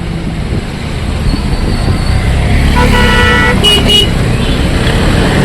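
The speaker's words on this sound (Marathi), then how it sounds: "लागलं रे जाम ट्राफिक होत इकडे" Road traffic rumbles nearby while a car horn honks in short bursts toward the end, loud and close.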